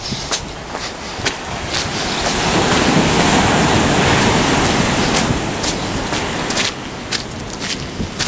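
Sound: ocean waves on a beach

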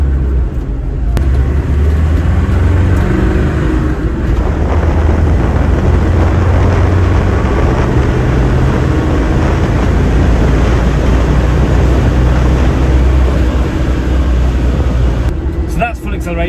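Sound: remapped Land Rover Defender accelerating after dropping a gear

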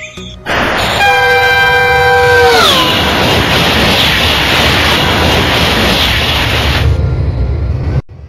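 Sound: train driving in video game Euro Train Simulator 2

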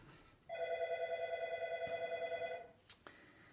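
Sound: telephone ringing

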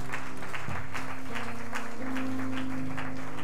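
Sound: congregation hand clapping

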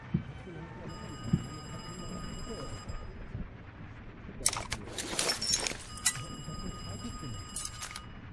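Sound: telephone ringing in Call of Duty: Black Ops Cold War video game

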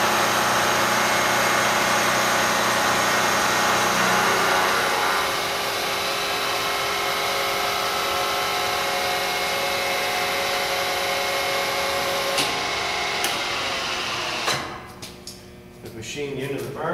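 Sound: vertical milling machine taking a finish cut on a part

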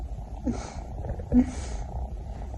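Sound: cat purring

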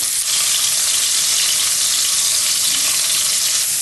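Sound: onions frying in meat broth

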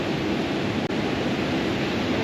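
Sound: waterfall in a rocky area

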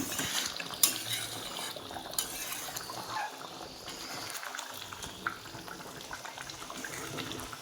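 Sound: lid placed over cooking pot

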